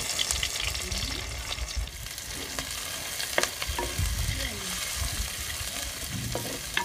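Onions sizzle loudly in a pan with dried chillies and curry leaves for a mussel curry, a dense continuous frying hiss broken by stirring clinks and scrapes, with no talking.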